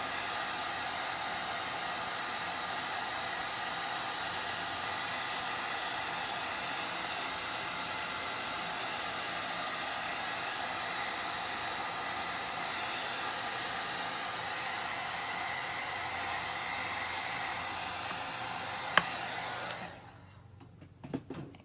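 A hair dryer blows with a steady, loud whooshing hum for a long stretch, then clicks off abruptly near the end.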